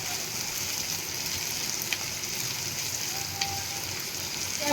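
Chopped onions sauté in hot oil in a pan while making South Indian masala dosa filling, giving a steady, close, even sizzle and crackle with a few faint clicks and no talking.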